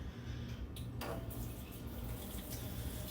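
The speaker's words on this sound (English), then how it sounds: "Let me go wash my hands so we can get started." Tap water runs steadily into a kitchen sink for hand washing, a close, continuous splashing hiss with a brief louder gush near the start.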